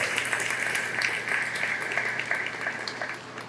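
Audience applause at a school parent information night, a steady crowd clapping that stays fairly loud and even throughout before tapering slightly at the end.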